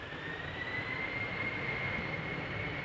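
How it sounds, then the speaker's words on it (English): KLM Embraer 190 jet taking off at Amsterdam Schiphol, a steady distant engine roar with a high whine holding on top, no voices. "KLM flight 1051 is taking off to Bristol, Embraer 190"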